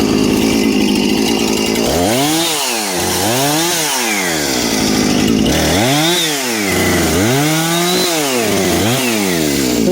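Husqvarna chainsaw cutting a big hemlock in the Adirondacks, loud and close, its engine revving up and bogging down in repeated swells as the chain bites into the wood.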